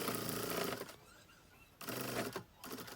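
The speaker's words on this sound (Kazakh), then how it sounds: "Сондықтан 1 сантиметр қалдырып отырып, жақсылап осылай тігіп шығасыздар." A sewing machine stitches a zipper onto a picnic bag in two close, loud bursts of rapid rhythmic needle clatter separated by a brief quiet pause, with a third run starting at the end.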